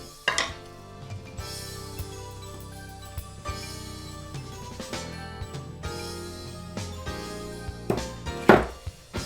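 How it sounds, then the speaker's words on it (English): Dry ingredients being mixed into wet ones in a bowl, with soft scraping and clinking of a utensil against the dish, occasional louder knocks, and a clatter near the end. "we will start by slowly mixing the dry into the wet."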